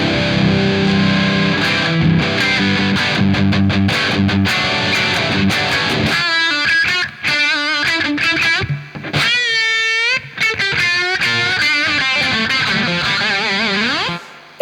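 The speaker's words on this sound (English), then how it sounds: "it's a digital reverb," Heavily distorted electric guitar through a tube amp riffing with dense chords, then sparser notes ringing out into a wide, washy digital reverb tail.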